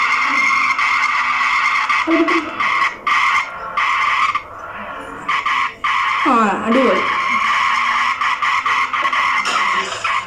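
A car skids with a sustained tire squeal in the Ice Cream Man horror video game, loud over a steady engine drone, while a player speaks briefly.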